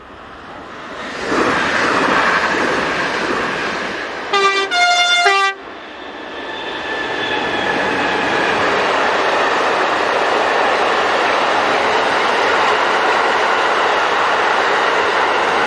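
Locomotives 27042 and 073 double-head an iron ore hopper train in the evening: a loud, close rolling rumble builds, a two-tone horn blasts briefly midway, then a steady roar of wagons continues.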